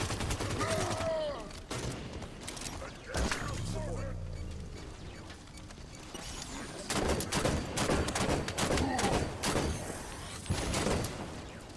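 Halo 5 Guardians gameplay with sharp gunshots and bursts of weapon fire, including a heavy sniper-style crack, mixed with clanking mechanical effects and shifting game sounds while a player talks over much of it.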